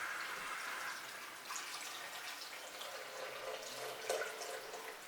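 Water is poured steadily into a blender for coconut-milk rice pudding (arroz con dulce), a continuous soft hiss and splash close by, with a slight surge near the end.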